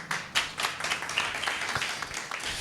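Church congregation at a preaching service claps half-heartedly, a sparse, uneven patter of hand claps with scattered louder slaps over a couple of seconds.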